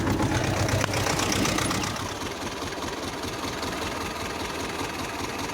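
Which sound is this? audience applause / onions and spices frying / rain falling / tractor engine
tractor engine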